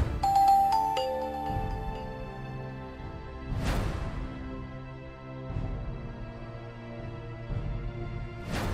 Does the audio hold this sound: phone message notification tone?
yes